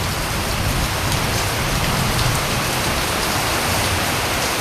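Rain falls hard on a tent while camping, a loud and unbroken wash of patter that stays even from start to end without any talk.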